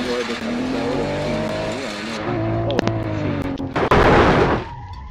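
An ETK 800 car engine in a video game hums and revs with shifting pitch, then tires squeal in a short harsh burst before the noise quickly dies away.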